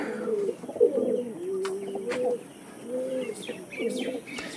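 Pigeons coo in repeated soft, rolling low calls at close range, with a few brief chirps and faint background noise.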